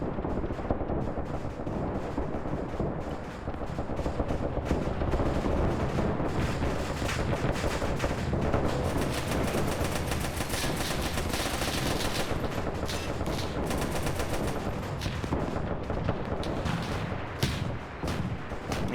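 Rapid, dense anti-aircraft flak cannon fire in a World War II desert airfield battle game, a loud continuous barrage of overlapping shots and bursts with no pauses across the whole stretch.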